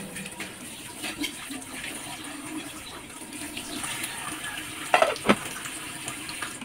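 Water runs into a pot for cooking rice in a home kitchen, a soft continuous trickle under faint room noise, with a couple of sharp clinks of the pot near the end.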